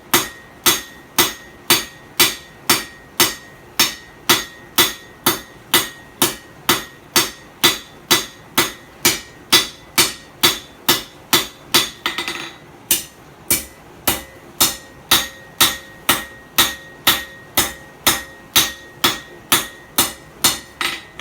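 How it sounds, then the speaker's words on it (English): Peen hammer rounding off metal at a forge, striking in a steady, evenly spaced rhythm of loud ringing blows, around forty in all, with a brief pause midway. "What I have here is another hammer. It's got a real nice peen on it."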